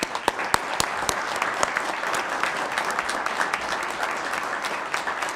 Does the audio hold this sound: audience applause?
yes